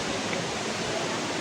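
Cold mountain stream at Seetha Gangula on the Sri Pada trail, a steady dense rushing hiss of flowing water, close and constant with no voices.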